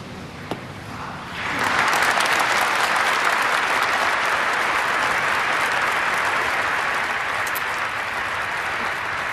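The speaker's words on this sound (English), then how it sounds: "his was the only speech that got applause" Applause at a funeral following a son's eulogy for his father breaks out after a brief pause, swelling into a loud, sustained wash of clapping from a large crowd that holds steady to the end.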